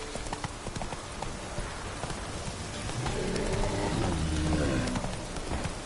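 A horse gallops in the Witcher video game, its hoofbeats drumming in a quick, continuous clip-clop rhythm up close, with a rising rumble of movement partway through and no talking.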